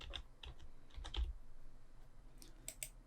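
Fingers type on a computer keyboard, entering a variable name in a robot-programming environment, with quick scattered keystrokes in short bursts, close and fairly soft over a quiet room hum.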